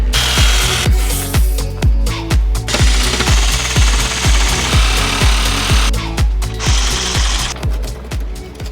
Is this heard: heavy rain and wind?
no